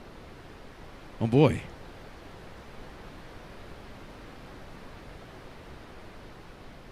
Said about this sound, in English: There's pink noise.